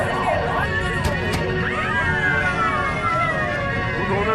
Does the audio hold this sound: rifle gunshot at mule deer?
no